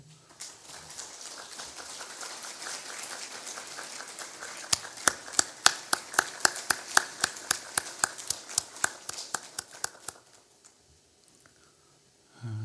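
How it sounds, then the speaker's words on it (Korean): A church congregation claps to comfort a grieving family after a funeral, a steady patter of many hands followed by a string of sharper, more distinct claps that fade out into quiet. "큰 박수로 한번 위로해 주시기 바랍니다"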